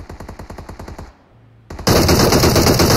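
Gunfire in the mobile battle royale game PUBG Mobile: a rapid burst of about ten automatic shots, then a brief lull, then a loud, dense barrage of sustained fire, close and intense.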